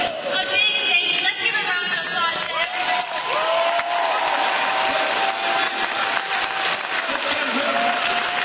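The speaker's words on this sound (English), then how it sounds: "Let's give a round of applause to everybody." Sustained applause from a convention panel crowd, dense and steady clapping with some cheering mixed in, filling the whole stretch.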